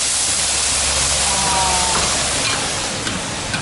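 Steady rushing splash of water poured into a cauldron with chicken for cooking over coals, continuous, fairly loud and close, with a faint clink near the end.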